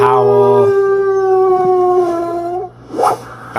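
A dog howls in one long, loud, sustained wavering note that slowly falls, then breaks off into a short whimpering yelp at the end.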